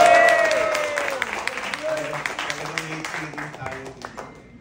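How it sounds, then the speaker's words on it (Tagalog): An audience claps at a Health Alliance PH party-list event, scattered applause fading steadily while a voice and musical tones sound over it in the opening seconds. "Lakasan niyo pa yung palakpak."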